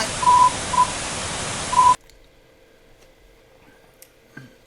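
A few single-pitch Morse-style beeps, one long, one short, then another long, sound over a hiss of static in an alternate-reality-game sound puzzle, then cut off abruptly to near silence with faint clicks.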